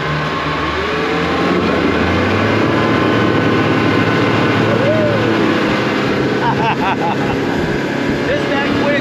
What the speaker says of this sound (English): while we're running, we're gonna trim this motor up a little bit. Watch the speed and RPMs climb.